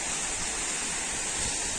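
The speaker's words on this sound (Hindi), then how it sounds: "आपको झरने की आवाज यहाँ पर आ रही होगी क्योंकि झरना इसी पास में है" Steady broadband roar of a waterfall in a forest, close and continuous with no pauses, no voices over it.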